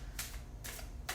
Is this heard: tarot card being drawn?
yes